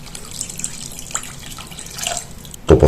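Water for a sugar-and-vanilla syrup pours in a thin trickling stream, faint and close at first, then becomes a louder splashing gush into a pot at the very end.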